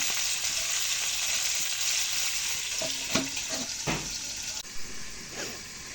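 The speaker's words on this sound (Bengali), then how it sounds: "এদিকে সাজনা আর আলুগুলো একসাথে ভাজা হচ্ছে" Drumstick pieces and potatoes fry together in oil in a pan, a steady loud sizzle with a few stirring knocks and scrapes toward the end.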